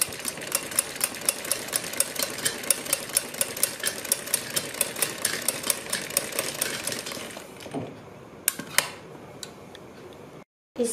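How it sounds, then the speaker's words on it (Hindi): A sewing machine stitches a kurti neckline with a rapid, even ticking of needle strokes for about seven seconds before slowing, leaving a few scattered clicks and handling noises. "इस तरह से सिलाई लगाएंगे।"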